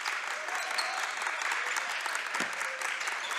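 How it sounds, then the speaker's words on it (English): A crowd in a high school gym cheers loudly and steadily throughout a basketball game, a dense continuous roar with applause and shouting. "Listen to this crowd here."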